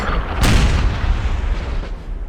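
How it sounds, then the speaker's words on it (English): Artillery volley in the Napoleonic-era strategy game Napoleon: Total War, Battle of Borodino 1812: one heavy booming blast with a rumbling tail over continuous battlefield din, then a fainter distant boom near the end. "It's nothing better than an artillery volley"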